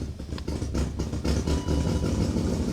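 A troubled BMW engine is given gas and revs in uneven, surging pulses, a close and fairly loud mechanical drone with no voices over it.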